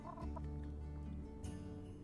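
A hen in the video game My Time at Sandrock makes a few soft, brief clucks and gobbling calls, quiet and close, over a faint tonal background.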